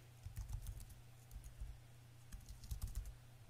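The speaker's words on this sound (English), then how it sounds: "type the new name and click OK" Quiet, close computer keyboard typing in two brief bursts of rapid key presses, soft and alone over a steady low hum, as a new page name is entered while building a website menu.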